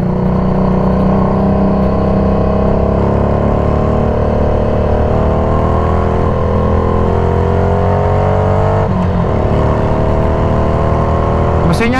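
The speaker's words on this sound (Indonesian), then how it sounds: "Mesinnya enak motor ini guys." A 2016 Harley-Davidson Street 500, modified in bobber style, drones loudly while being ridden, its engine note climbing gradually under throttle before a brief dip and recovery, with steady wind rumble underneath.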